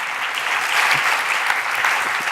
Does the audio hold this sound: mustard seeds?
no